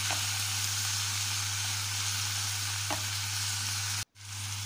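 String beans stir-frying in a pan for ginisang sitaw, a steady close sizzle and hiss with faint stirring scrapes and a brief drop near the end.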